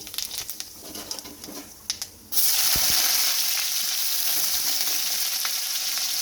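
Cumin seeds hit hot oil in a pan for a Bengali fish curry, setting off a sudden loud, steady sizzle after a couple of seconds of quieter kitchen clatter, then crackling on without a break.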